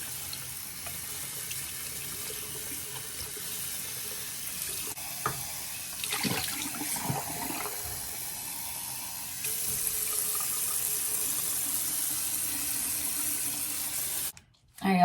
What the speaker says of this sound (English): So we're gonna go ahead and rinse his hair out.